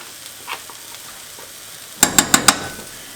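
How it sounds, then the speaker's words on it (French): Brussels sprouts and garlic frying in a pan, with a faint quiet sizzle, then four quick sharp scrapes of a utensil stirring against the pan, close and distinct. "Donc, je fais revenir mes choux de Bruxelles et ensuite on continue la recette."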